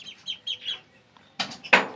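Sick Chinese ducklings give several thin, high peeping calls in a quick series, then two louder, harsher bursts close by, with quiet gaps in between.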